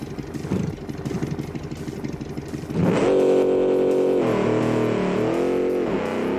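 A muscle car engine in a driving video game idles with a rough burble, then revs up loudly at about three seconds and holds a sustained, strong roar with pitch shifts through the rest.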